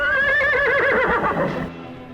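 A horse neighs loudly and close in a radio advertisement for a horse sale, a long wavering whinny that trails off over about two seconds with no talk.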